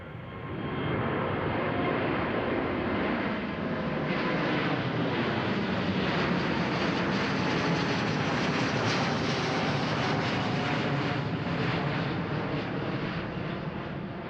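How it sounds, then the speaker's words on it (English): Delta Airbus A330-900 jet taking off at Amsterdam Schiphol, a loud, sustained roar of engines swelling and holding steady, with broadband rumble and wind buffeting the microphone. "We got an Airbus A330-900 from Delta Airways."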